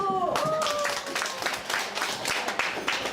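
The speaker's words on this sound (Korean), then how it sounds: "박수!" Children in a classroom clap together in a burst of applause, a dense, close patter of many small hands, with a teacher's voice briefly heard at the start.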